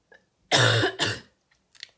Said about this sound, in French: J'ai trop parlé, donc du coup, je me mets à tousser.